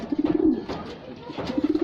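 Red check pigeons in a loft give two low, throaty bursts of rolling coos, close and clear, with a soft rustle in between.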